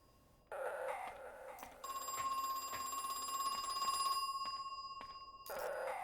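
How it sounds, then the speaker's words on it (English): A telephone rings in the horror game Crow Country, a sustained electronic ring tone that swells and holds for several seconds, fairly faint against a quiet game ambience, with no talk. "Another phone call?"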